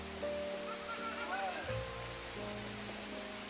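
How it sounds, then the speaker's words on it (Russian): A waterfall in Gabala rushes in a steady, soft roar in the background while people talk nearby. "Красивый, конечно, водопад."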